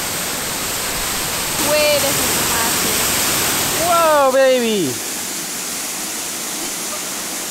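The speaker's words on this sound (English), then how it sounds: "Do you see that crazy waterfall?" A large waterfall at a campsite roars as a steady, loud wash of noise throughout, while people nearby speak over it.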